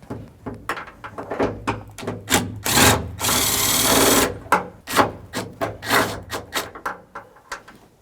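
A power tool removes two 10mm nuts holding the high-mount third brake light on a 2010-2013 Ford Transit Connect, giving short bursts of whirring and clunking, a longer sustained run in the middle, and close mechanical rattles.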